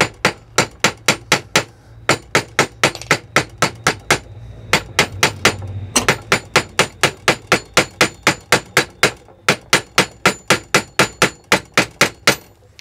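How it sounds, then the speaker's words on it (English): A small hammer taps dowels into a hickory golf club head in dozens of sharp, evenly spaced knocks, loud and close, pausing briefly midway before continuing the steady rhythm alone. "take a small hammer and I'm going to tap those dowels in further"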